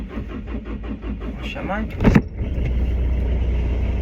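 A manual car driven by a learner: the engine turns over in a rhythmic chug, catches with a brief loud surge and settles into a steady low idle, with a short spoken remark partway through.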